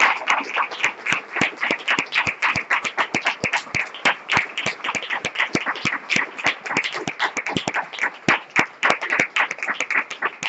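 A church congregation clapping hard during a Spanish-language service, loud distinct claps packed close together in an uneven rhythm, with a few louder sharp slaps standing out, continuing without pause for about ten seconds.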